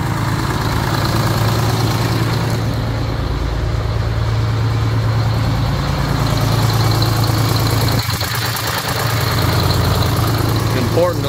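A worn-out truck's two-stroke Detroit diesel idles steadily, a continuous low rumbling drone that stays loud and close with no break, and no voices break in over it.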